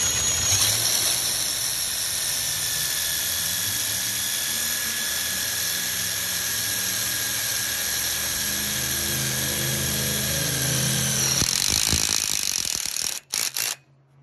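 A power drill drives screws into chain link gate hardware, a steady loud whine running for about eleven seconds before spinning down and stopping, with no talk.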